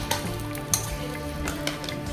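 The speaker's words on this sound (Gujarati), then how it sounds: "સરસ મજાની ભાઈ ઇડલી જો વઘારી નાખી છે" Idli tempered in a hot pan fries with a steady close sizzle, broken by a few sharp clinks of a spoon or spatula stirring against the pan.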